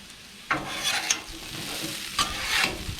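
Diced potatoes fry on a Blackstone griddle at medium heat, sizzling steadily while a spatula scrapes and stirs them in a few louder bursts.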